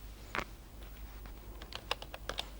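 Clicky keystrokes on a computer keyboard while entering text in an MS Excel spreadsheet: a lone tap early, then a quicker run of close, crisp taps near the end.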